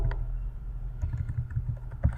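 Soft keystrokes on a computer keyboard while C# code is typed, a quiet irregular run of clicks close by with no talking.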